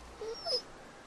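A dog in The Walking Dead video game lets out a couple of brief, high, thin whimpers, close but quiet, followed by near silence.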